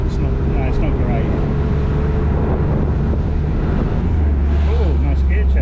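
A car's engine runs roughly and unevenly between 3,000 and 4,000 rpm on the road, with a steady low drone and wind rush throughout, and a voice speaking over it.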